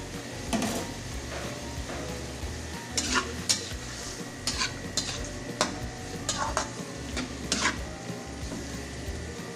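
Sliced mushrooms sizzle and fry in a pan for a roast beef dish. A utensil stirs and scrapes against the pan with several sharp clinks over a constant frying crackle.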